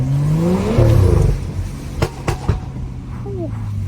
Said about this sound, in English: That intake sounds mad.